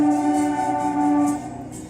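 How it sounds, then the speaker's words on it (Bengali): A train passing a short distance behind a house produces a loud, sustained droning tone that holds steady, then eases slightly toward the end of the brief stretch. "পেছন দিয়ে ট্রেন যাচ্ছে, সেই জন্য একটু শব্দ হচ্ছে"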